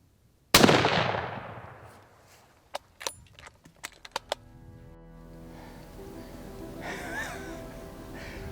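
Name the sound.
gunshot from a .300 Win Mag deer hunting rifle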